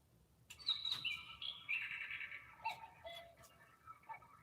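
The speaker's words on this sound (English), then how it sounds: "I hear you, bird." A bird chirps and tweets outdoors near a tree, a run of bright, quick calls in the first half followed by a few scattered shorter notes, fairly faint against a quiet background.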